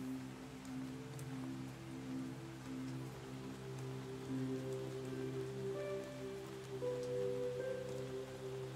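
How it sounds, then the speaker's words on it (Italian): Steady rainfall with a soft, sustained melody playing alongside, even and unbroken throughout. "Lasciati guidare semplicemente dal suono della pioggia e da questa dolce melodia"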